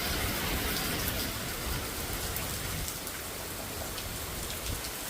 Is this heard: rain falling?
yes